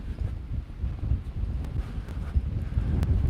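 Strong outdoor wind gusts buffet the microphone in a steady low rumble, with faint rustling and occasional knocks rising and falling throughout.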